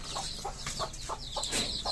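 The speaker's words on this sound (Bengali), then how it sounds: "তো বন্ধুরা দেখতেই পাচ্ছেন ছোট ছোট দেশি মুরগির লোকাল বাচ্চা।" Small native desi chicks and hens on a backyard poultry farm cluck and cheep in short repeated calls, close by, over steady low background noise.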